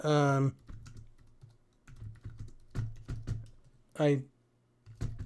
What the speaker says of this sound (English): It's hard for me to type.